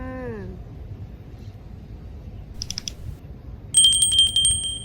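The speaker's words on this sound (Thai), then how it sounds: "อย่าลืมกดกระดิ่งกิ้งกิ้งกิ้ง" A notification bell effect rings out alone: a brief high chime partway through, then a longer, brighter ringing tone that sustains to the end, over a quiet background.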